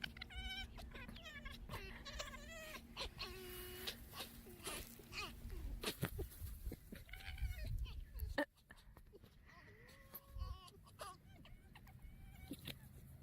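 Several high, wavering yelps and screeching calls from a fox, close by, repeating in quick bursts with rustling in between.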